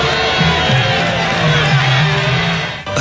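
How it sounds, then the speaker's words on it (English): A large stadium crowd at the Raiders' final game in Oakland roars with sustained, dense voices, a loud continuous wash of booing and shouting that drops away sharply near the end. "Are they booing me?"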